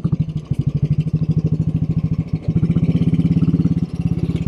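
A 1957 Royal Enfield Bullet 500 single-cylinder motorcycle engine runs close by with a steady, loud, rapid thumping beat that pauses briefly once, then settles back into an even rhythm.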